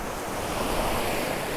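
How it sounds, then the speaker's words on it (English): Ocean waves roll onto a Scottish beach at dawn, a continuous broad wash of surf mixed with wind buffeting the microphone, steady and moderately loud with no voices. "I am trying to time the waves coming in"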